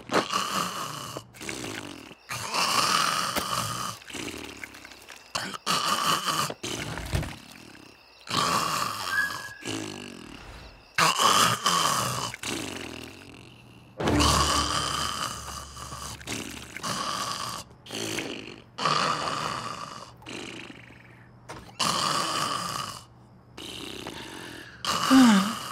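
A cartoon character snores loudly and up close in a long run of rhythmic rasping inhales and snorts, broken by short pauses and quiet gaps, with no talking over it.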